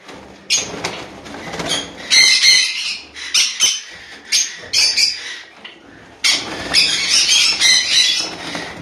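Home-bred pet birds, conures and lovebirds kept alongside Java sparrows, squawk and screech loudly up close in repeated harsh bursts, with short quieter gaps and some cage rattling between calls.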